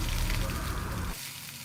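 Chopped onion fries in hot oil with peanuts in a pan for red poha upma, giving a close, steady sizzle that drops abruptly to a softer crackle near the end.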